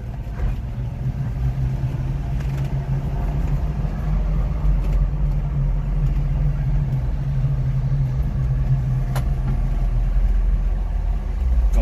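Once warmed up, a Honda Acty HA4 kei truck idles in a steady low rumble, even and continuous, with a faint higher whine on top and no talking.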